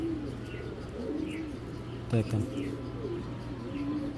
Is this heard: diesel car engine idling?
no